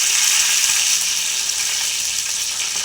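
Mustard seeds and curry leaves sizzle in hot oil alongside fenugreek, a steady close crackling hiss that holds even and unbroken throughout.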